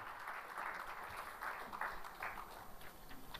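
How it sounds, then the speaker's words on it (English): Audience applause at the Most Admired Companies of Sri Lanka 2018 awards event, for a 19-year-old honoree: a steady, dense wash of many hands clapping, fairly soft and distant, holding evenly for a few seconds. "I think he deserves another round of applause, all of you, ladies and gentlemen."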